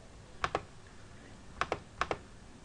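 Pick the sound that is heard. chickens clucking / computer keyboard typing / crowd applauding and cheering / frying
computer keyboard typing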